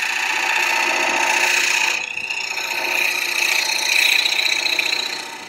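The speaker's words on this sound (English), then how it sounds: "now I'm going to go to the 55 degree bowl gouge" A 55 degree bowl gouge cuts wood on a lathe with a continuous, close hissing scrape, briefly dipping mid-way, then swelling again before easing off.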